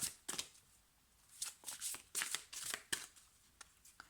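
Cards being shuffled to draw a single card, quiet close-up bursts of sliding and flicking in an irregular rhythm, with no talking.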